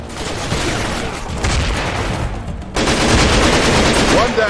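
Gunfire in the PC shooter Raven Squad: sustained bursts of automatic weapons fire and rattling shots, loud and close, with a sharp cut to an even louder barrage near the end.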